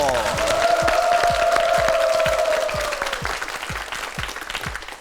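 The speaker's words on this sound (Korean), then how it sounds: "한수, 박수 보내주세요." Studio audience applauds on a Korean TV quiz show, a dense burst of clapping with a sustained tonal cue sounding over it at first, then the applause thins into scattered claps as it fades.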